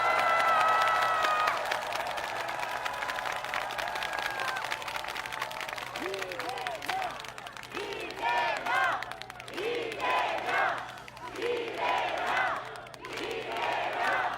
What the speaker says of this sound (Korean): 서로 격려, 응원의 박수 한번 나눠주시기 바랍니다